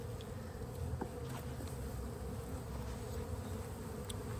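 Honey bees swarm around an open hive during an inspection, giving a steady, dense, close buzzing drone that holds without a break, with no voices over it.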